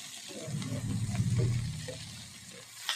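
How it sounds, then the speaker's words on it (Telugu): Curry leaves and mint fry in a pan for a nalleru chutney, a soft continuous sizzle with faint stirring scrapes, close and steady, with a brief brighter crackle near the end. "కరివేపాకు, పుదీనా ఇవన్నీ వేసుకొని కలర్ వచ్చేంత వరకు వేపుకోవాలి."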